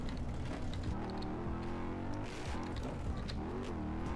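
A powerful motorcycle engine revs hard during a street ride, a loud continuous roar whose pitch rises and falls with the throttle throughout.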